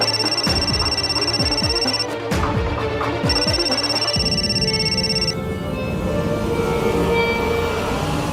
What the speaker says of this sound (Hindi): इसकी तो फोन नहीं उठा रही है।